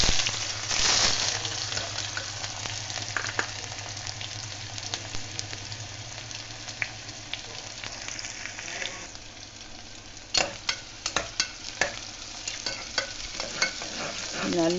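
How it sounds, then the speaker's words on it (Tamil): Bay leaf and chopped onions fry in hot oil in a pressure cooker, a close steady sizzle with scraping stirs that turn to sharp clinks of a spoon toward the end, no one speaking. "இப்போ அதில் இந்த பே லீஃப் சேர்த்துக்கலாம், கட் பண்ணி வச்சுருக்குற ஆனியன்ஸ் சேர்த்துக்கலாம்."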